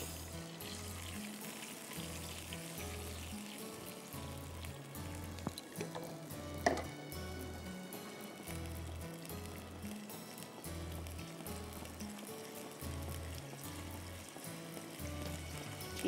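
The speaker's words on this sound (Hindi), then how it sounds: "ज़रा सा हम इसको भूनेंगे" Eggplant frying in a pan for baigan khaas gives a steady, fairly quiet sizzle throughout. A single brief clink stands out near the middle, and a low rhythmic hum runs underneath.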